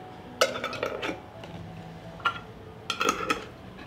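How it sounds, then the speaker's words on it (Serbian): Glass jars are sealed with clean new lids, giving sharp clinks and metallic clatters in a few quick clusters, close and fairly quiet, separated by short pauses. "Zatvaramo tegle sa čistim i novim poklopcima."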